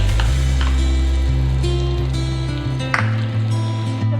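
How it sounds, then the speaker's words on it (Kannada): Hot tempering poured onto spinach greens for palak sambar, a loud sizzle and bubbling hiss rising at once and holding steady, close up, with a few utensil clinks and no talk. "ಒಗ್ಗರಣೆನ ಹುಳುಸೊಪ್ಪಿಗೆ ಹಾಕ್ತಾ ಇದ್ದೀನಿ."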